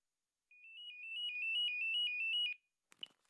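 Smartphone ringtone: a bright electronic tone that starts soft and swells into a rapid warbling ring, then cuts off, followed by a brief rustle.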